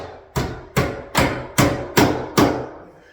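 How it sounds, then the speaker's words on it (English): Six firm, evenly spaced hammer blows drive a nail through drywall corner bead, each one a close, sharp knock with a short ringing decay. "I'll come on this side and put a nail on the inside, tighten that corner down more"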